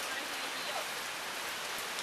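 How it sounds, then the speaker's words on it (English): Heavy summer rain pouring down in hot Texas weather, with large drops making a dense, steady hiss at moderate volume; no thunder rumble stands out. "it is thundering and lightning and raining"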